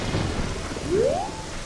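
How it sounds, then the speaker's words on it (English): Rain and a thunderstorm in Kakariko Village in the video game Zelda: Ocarina of Time, a steady wash of rainfall with a low thunder rumble under it, continuous and fairly loud throughout. "it's raining right now, and the reason that it is raining right now in Kakariko, it's actually storming in Kakariko"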